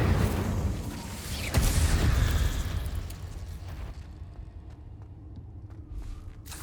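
Confringo fire spell explosions in Hogwarts Legacy, a loud booming burst with rumbling low end that swells and then fades into a quieter rumbling tail, alone with no talk.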